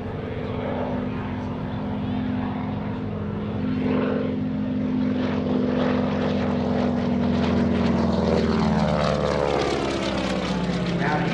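A propeller aerobatic airplane flies a roundhouse loop at the 2017 NAS Oceana airshow, its engine drone steady and loud throughout, pitch sliding as it turns, with faint commentary mixed in.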